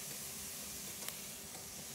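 Butter and flour cooking into a roux in a pan, a faint, steady sizzle and hiss with one small stir-like tap midway and no talking.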